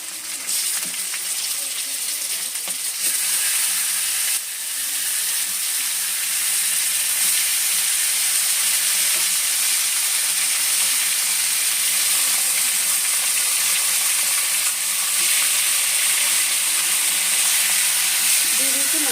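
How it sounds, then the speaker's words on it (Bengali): Marinated chicken pieces sizzle and crackle continuously in hot oil in a pan for a chicken kosha, a loud, close, steady frying hiss with occasional stirring clinks and no voices. "মাংসটা এবার মাংসটা ভালো করে একটু ভেজে নেব"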